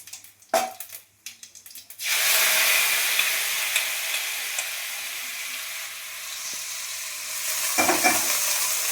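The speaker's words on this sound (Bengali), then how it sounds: "ডালটাকে একটু ভেজে নিই জিরে দিয়ে।" Moong dal frying with cumin in hot mustard oil, a steady close sizzle that starts after a few stirring clatters and keeps hissing evenly, with a spoon scraping near the end.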